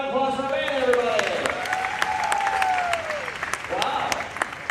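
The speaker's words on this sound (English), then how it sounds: "Another round of applause for Amanda, everybody." Audience applause for a volunteer fills the space steadily from start to finish, a dense wash of clapping from a crowd with a voice talking over it.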